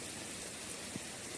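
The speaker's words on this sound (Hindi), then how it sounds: "आज दिन भर झक्कर कर ही लगत हवे और पानी गिरत हवे" Rain falls steadily over a village on an overcast day, a soft unbroken hiss with a faint drip or two and no voices.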